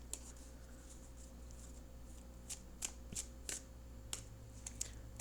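Tarot cards are shuffled close by in soft riffles and quick flicks, a series of light papery snaps against a quiet room.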